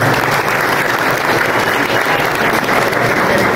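Crowd applauding at a museum inauguration ceremony, steady sustained clapping from many hands, loud and even from start to finish, with no speech over it.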